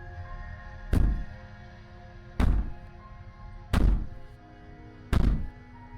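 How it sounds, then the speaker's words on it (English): Four heavy, booming bangs in the video game Slay The Princess, evenly spaced about every one and a half seconds, each a loud thud with a short ringing decay over a low droning background. "Maybe the banging and wailing will stop if you just don't pay attention to it."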